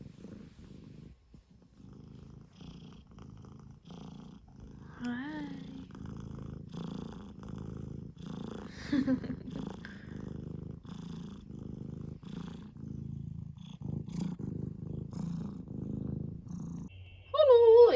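Kitten purring close up, a continuous low rumbling purr that runs steadily throughout, with a few brief higher meows or squeaks and a single short spoken greeting.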